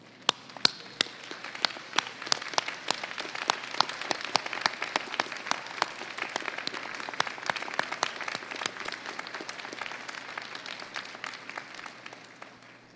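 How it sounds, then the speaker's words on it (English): Audience applause at a university graduation ceremony, a steady mid-level patter of many hands with sharper individual claps standing out, sustained evenly for about thirteen seconds with no talk over it. "face your family and friends, and give them a round of applause for supporting your journey"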